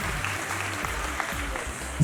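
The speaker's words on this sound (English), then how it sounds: "Please join me in applauding them." Audience at a primary school graduation ceremony applauding the graduating class, steady dense clapping from a large crowd, fairly close and continuous throughout.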